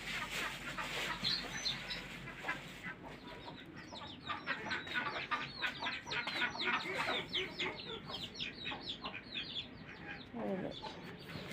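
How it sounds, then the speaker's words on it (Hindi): Chickens and small chicks cluck and cheep busily as they are fed grain, with many overlapping near calls throughout and a voice speaking now and then in the background. "ये देखिए, ये मेरी चूजियाँ आ गई हैं बाहर"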